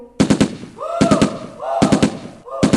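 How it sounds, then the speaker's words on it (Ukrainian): Four loud bursts of rapid machine-gun fire played from a tape recorder in a puppet show, each a quick rattling volley, separated by short pauses with a tonal electronic sound between them. "І тут Настя включає магнітофон і вовк чує звуки стрілянини."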